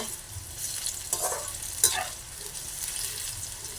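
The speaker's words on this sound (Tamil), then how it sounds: "கத்திரிக்காய் வந்து நல்ல பொன்னிறமாக பொறிஞ்சு வந்துட்டு" Eggplant slices fry in hot oil, a close, steady sizzle and crackle with a few louder pops and spits, and no talking.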